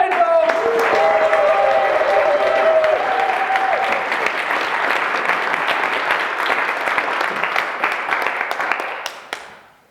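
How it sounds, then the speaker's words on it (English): An audience at an inspirational talk gives a big round of applause to the first speaker, dense clapping with a few cheering voices at the start, holding steady before dying away near the ten-second mark. "Give me a huge first speaker, round of applause for Beth Penfold"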